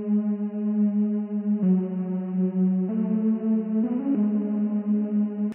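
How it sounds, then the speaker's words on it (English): Left and right synths forming the second layer of a metal song, a smooth sustained tone stepping through a few held notes, steady and prominent with no talking. "The second layer, which is the left and the right synth,"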